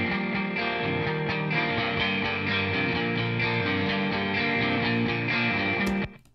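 Double-tracked electric guitars through the same amp, miked with a 421 and a 57 and panned either side; a dense, steady, loud chordal rock part playing continuously before cutting off abruptly near the end.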